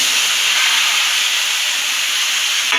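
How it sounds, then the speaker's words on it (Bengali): Marinated stomach and liver hit hot oil over fried potatoes, giving a steady, loud broadband sizzle and hiss that holds evenly throughout, with no talking. "এবার আমরা ম্যারিনেট করা টমাক মেটেটা এর মধ্যে দিয়ে"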